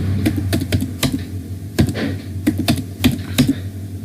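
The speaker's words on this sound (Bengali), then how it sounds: "এখন পাসওয়ার্ড চাইছে, এন্টার করব" Rapid bursts of computer keyboard typing as a password is entered in Tally Prime accounting software, with irregular clustered keystrokes and a few louder key presses, close up, over a steady low hum with no talking.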